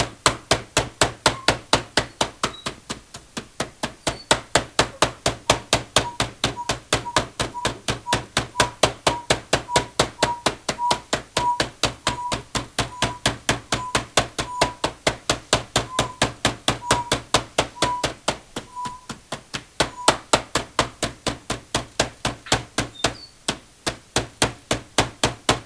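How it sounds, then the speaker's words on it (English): Rapid, steady pounding of chicken breast with a kitchen mallet, flattening it for chicken piccata; regular loud thumps repeat for about twenty-five seconds without pause. "pound it out. We want to get this out to about 1/4 of an inch thickness"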